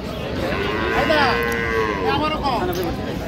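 Dairy cows and calves mooing at a busy livestock haat in Raniganj, Dinajpur, several overlapping drawn-out moos close by over a crowded market murmur.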